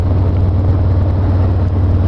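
Harley-Davidson Fat Boy motorcycle with slip-on exhausts, its engine idling with a deep, steady, loud throb close by, heard alone without any talk.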